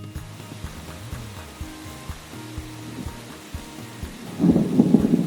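Rain falls steadily during a storm with low rumbles of thunder, a constant soft hiss joined by scattered thuds, swelling into a louder rumble near the end.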